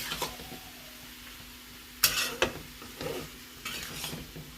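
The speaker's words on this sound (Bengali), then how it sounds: "এইভাবে আমি সম্পূর্ণ সয়াবিনের মধ্যে মশলাটাকে মাখিয়ে নিলাম।" Masala is stirred into soybeans in a pan, with intermittent scraping strokes of a spoon against the metal over a faint sizzle, close and fairly quiet.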